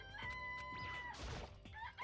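Chickens in the Danganronpa: Trigger Happy Havoc video game cluck and crow close by, mixed with game music and sound effects.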